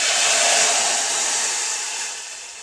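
Dal is poured into a hot garlic tempering fried golden brown, setting off a loud, close hiss of sizzling that fades slowly over a few seconds, with no voices.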